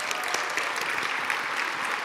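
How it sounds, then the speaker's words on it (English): A conference audience at a hospitality association summit keynote panel applauds, a sustained crowd of clapping hands heard at moderate distance, even and continuous with faint voices underneath. "Give another round of applause, all right?"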